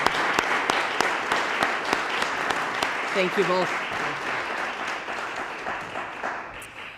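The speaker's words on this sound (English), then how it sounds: "Can we give you a round of applause?" An audience at a county election forum applauds two candidates, a full round of clapping with a few sharp near claps standing out, while a voice briefly speaks over it midway before the applause slowly tapers.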